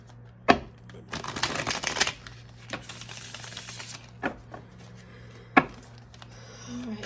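Tarot cards are shuffled and pulled at close range, with a riffling burst, a few soft slaps and sharp snaps as cards are drawn and laid down, quiet between actions.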